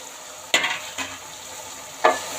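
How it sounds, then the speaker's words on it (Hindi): Cauliflower is stirred in a sizzling pan with meat for a gobhi gosht curry. A steady frying hiss runs under three distinct spoon scrapes and clatters spaced about a second apart. "अब इसकी ये कंडीशन हो गई है तो अब हम इसमें गोभी जो है वो ऐड कर देंगे।"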